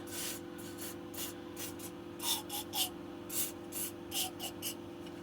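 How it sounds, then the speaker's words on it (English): Aerosol spray applied in short hissing bursts onto the bolts of a Suntour HESC CAN e-bike hub motor during a teardown, about a dozen quick puffs at close range over a steady low hum. "to give these screws a little spray down."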